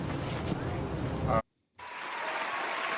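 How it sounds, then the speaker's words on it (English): A live audience bursts into dense, steady applause that cuts out abruptly into a brief silence, then a softer wash of clapping and crowd noise resumes. "let's listen to this goddamn applause"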